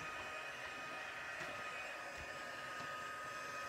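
A heat tool blows over watercolour paint with a steady, fairly quiet whooshing hiss that holds unchanged for a few seconds, with no voices.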